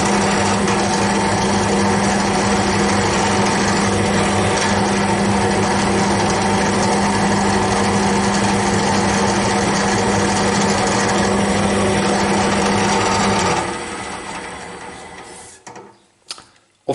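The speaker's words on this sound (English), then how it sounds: "When you use bigger drill bits like this, or even a bit more bigger, the drill will self-center." A drill press runs steadily with a large bit for about thirteen seconds, a loud continuous motor hum and cutting whine, then winds down with a few scattered clunks near the end.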